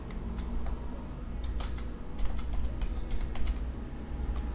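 Rapid keystrokes on a computer keyboard as Windows repair commands are entered, an irregular run of close, crisp clicks with slight bursts of speed, alone without talk.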